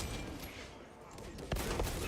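Rapid bolt gun fire from a space marine in a video game, a dense, loud fusillade of shots that swells sharply near the end over constant battle noise.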